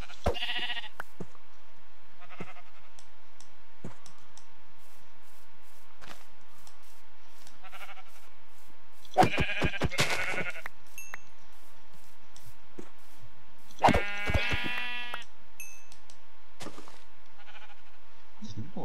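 Sheep in Minecraft bleat several times, two loud bleats standing out amid quieter ones spread across otherwise hushed game ambience.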